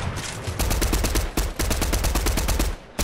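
Rapid automatic gunfire in Fortnite rings out in dense repeated bursts, loud and close, with one brief pause partway through and no talking.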